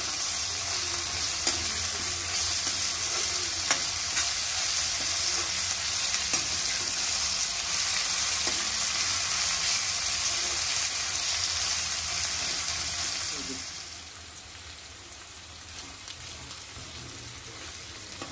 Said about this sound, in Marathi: आलं लसूण पेस्ट सुद्धा चांगली शिजवून घ्यायची आहे।